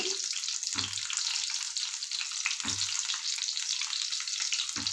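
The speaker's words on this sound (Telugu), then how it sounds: "నీట్గా ఇలా మొత్తం వంకాయలన్నీ కూడా చక్కగా వేయించుకోవాలండి" Brinjal (eggplant) pieces frying in a pan give a steady, close sizzle with a few soft clanks of stirring, no talking.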